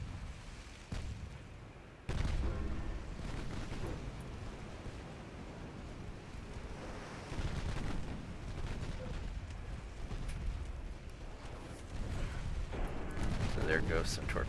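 Warship torpedoes launch in the naval battle game Ultimate Admiral Dreadnoughts: muffled booms and rumbling splashes rise over low ocean and engine noise, with a few sharper thuds mixed in and a voice talking faintly over it.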